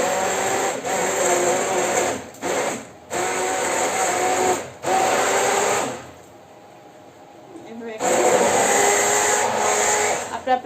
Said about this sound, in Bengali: তো এবার আমি এটা ব্লেন্ড করে ফেলবো।